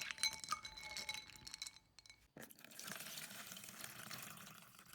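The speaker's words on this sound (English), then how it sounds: "Rub it together for a while, and you will see the water becomes very cloudy." Clams rubbed together by hand in a bowl of water, giving wet sloshing and light shell clinks that drop out briefly midway, then a steady soft swishing of water close by.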